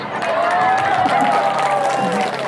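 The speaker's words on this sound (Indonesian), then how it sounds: "Tepuk tangan." A crowd at a religious talk claps and murmurs briefly, the applause mixed with a sustained tonal voice or sound running through it.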